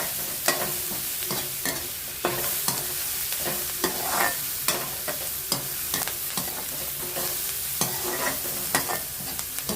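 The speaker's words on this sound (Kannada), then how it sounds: "ಫ್ರೈ ಆಗ್ತಾ ಇದೆ. ಈಗ ಸ್ವಲ್ಪ ಗೋಲ್ಡನ್ ಬ್ರೌನ್ ಕಲರ್ ಬರ್ತಾ ಇದೆ ಈರುಳ್ಳಿ." Onions turning golden brown sizzle steadily in a pan for an ivy gourd stir-fry, while a spoon scrapes and stirs in repeated strokes roughly every half second, close and clear with no talking.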